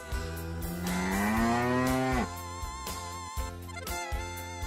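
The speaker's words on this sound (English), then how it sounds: "Cow." A cow gives one long, loud rising moo over cheerful children's background music, the call fading before the tune carries on alone.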